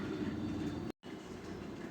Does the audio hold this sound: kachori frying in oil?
no